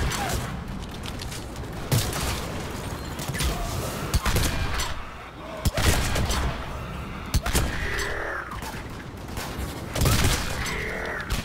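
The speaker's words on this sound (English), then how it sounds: "Definitely an excellent marksman rifle." M-99 Saber marksman rifle fire in the video game Mass Effect 3 cracks out in several sharp, loud shots spaced a few seconds apart over a busy battle din of other gunfire and effects.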